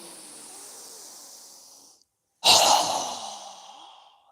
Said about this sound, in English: So go ahead and inhale. Strong exhale.